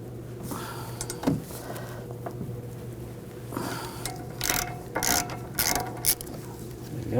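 A ratchet fitted with a 13mm socket loosens a bolt on a 2006-2009 Audi S4, giving close, sharp clicking bursts in short runs with pauses between, over a low steady hum.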